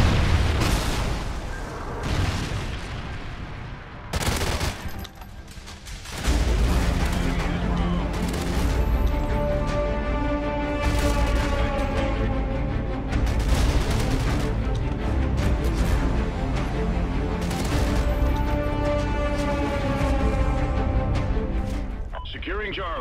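Rocket explosions and bursts of gunfire ring out in a video game battle, with sharp booms early on followed by continuous rumbling combat and repeated shots, while voices talk over the action.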